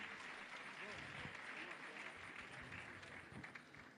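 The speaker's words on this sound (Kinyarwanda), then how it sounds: "Reka twongere tubakomera amashyi menshi" A church congregation at a worship service applauds together, a dense, continuous wash of clapping at moderate volume. A voice speaks over it throughout.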